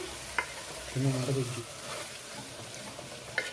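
Chili masala and mutton pieces fry in a pan for Telangana-style gongura mutton, giving a soft steady sizzle, with a short scraping stir in the middle and a couple of light utensil taps near and quiet.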